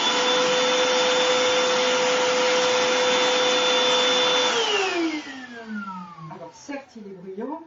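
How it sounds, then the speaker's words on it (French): A Black+Decker 18V cordless handheld vacuum with a pivoting head runs with a loud, steady whine. It then powers down, its pitch sliding lower as it spins to a stop, with faint talk near the end. "Quant au bruit, je vous laisse juge."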